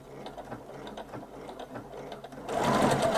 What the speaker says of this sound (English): And I'm going to keep sewing.